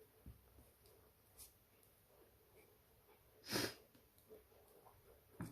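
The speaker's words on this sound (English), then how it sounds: "there I go, sniffing again." A person sniffs through the nose, one distinct loud sniff midway among a few faint breaths and small rustles in a quiet room.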